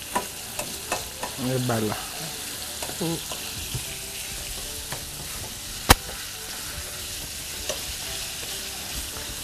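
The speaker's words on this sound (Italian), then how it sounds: "Facciamo rosolare bene la salsiccia" Sausage browning in a pan for gnocchetti sardi with dried porcini: a steady frying sizzle throughout, with scraping clatters of stirring early on and a sharp utensil tap midway, and a voice speaking briefly.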